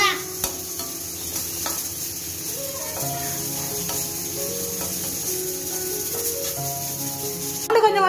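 Onions sautéing in a pan in a home kitchen, a soft continuous sizzle with occasional stirring scrapes, while a voice speaks intermittently over it.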